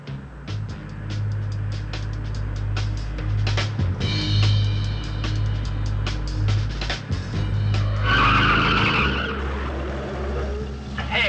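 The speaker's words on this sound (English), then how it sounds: "My brakes are locking once in a while." A car skids with its brakes locking on a 1970s road, a harsh tire screech rising over steady engine drone near the end of a busy, loud passage.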